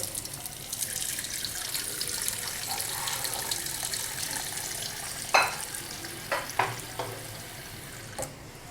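Tap water runs steadily into a pot for cooking Afang soup, a continuous rushing wash with a few sharper clinks and splashes near the end, no talking.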